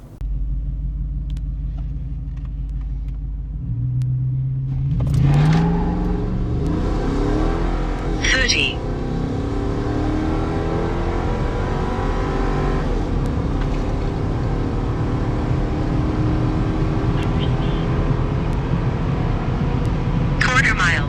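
A Coyote F150 pickup running E85 with a swapped cold air intake idles, then launches hard down a quarter-mile drag strip, its engine roaring loud and rising in pitch as it pulls away.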